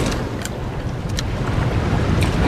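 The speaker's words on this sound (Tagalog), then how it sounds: "doon sa hampas ng alon sa may kahoy" Ocean waves slap against wooden planks beside a boat in a continuous rough, splashing wash, with a few sharper knocks standing out near the microphone.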